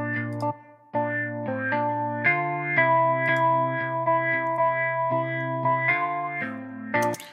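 Native Instruments Electric Mint virtual electric guitar played with a duller, darker pickup tone: a run of sustained, strummed chords with effects, close and steady, changing about every half second to second, no talking.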